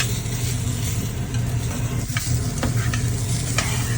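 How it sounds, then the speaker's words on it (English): Onions frying in a pan, a loud, steady sizzle running throughout with a few brief scraping stirs, no voices. "you're gonna go ahead and put your onions in. If you want onions, this is when to do it so that they fry up a little"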